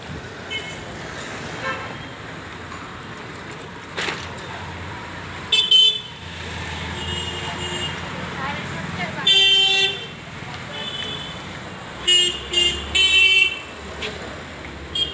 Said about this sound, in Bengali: এটা যাদবপুরের রাস্তা, আর সোজা ওদিকে গেলে রানীকুটির রাস্তা।